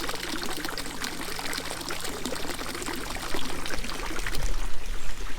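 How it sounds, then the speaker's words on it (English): Water from a koi pond fountain trickles and splashes steadily nearby, a continuous bright pour that swells slightly louder toward the end, no voices. "Our koi water fountain is actually working right now."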